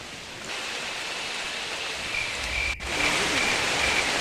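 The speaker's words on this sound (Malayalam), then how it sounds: "മഴ കിട്ടി ഞങ്ങൾക്ക്." Steady rain hisses down in a forest at Munnar, a dense, even wash of sound that holds for the whole stretch with a brief dip near the end.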